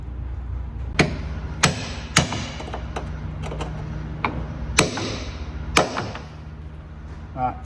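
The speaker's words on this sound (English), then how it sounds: "So just going to smack them flat with a chisel" Hammer blows on a chisel flattening metal tabs on Shockworks coilovers fitted to a Ford BA Falcon, several sharp close metallic strikes spaced irregularly over a quiet workshop background.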